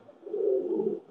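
A Pakistani Teddy pigeon gives a soft, close coo lasting under a second, a low throaty murmur with a brief start of another at the end, in an otherwise quiet space.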